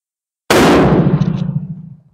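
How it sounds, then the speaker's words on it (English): A single loud, close gunshot from a Steyr M95 long rifle chambered in 8x50R Mannlicher firing a hot load: a sharp crack after silence, followed by a long rumbling echo that fades over more than a second. "Now I'm shooting the target on the right."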